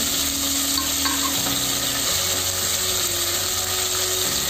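Bay leaf, shahi jeera and coriander sizzle in hot ghee, giving a loud, steady, close hiss that runs unbroken from start to end with no talking.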